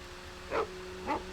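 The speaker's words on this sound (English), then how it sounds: "Puppy?" Two short dog barks in the video game Alan Wake, spaced about half a second apart, fairly close and clear over a steady low electrical hum.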